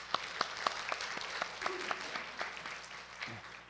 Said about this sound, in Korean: 조금 수고하셨다고 박수 한번 보내겠습니다